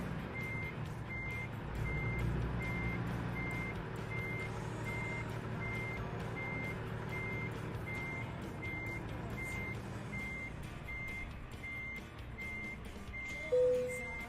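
A truck reverses in American Truck Simulator, its backup alarm beeping in an even, regular rhythm over a low, steady engine rumble, with a brief louder knock near the end.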